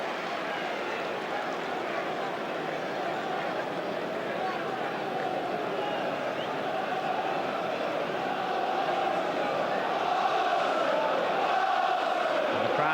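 Football stadium crowd at an Arsenal versus Newcastle match in 2003/2004, a steady broad roar of supporters swelling slightly toward the end, heard under a commentator's voice.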